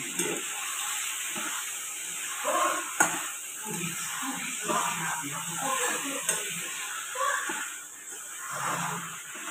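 Onion, garlic and ginger paste with cumin and chili powder, salt and oil sizzle in a pan while being stirred, a soft crackling hiss broken by repeated scraping strokes and a few clinks.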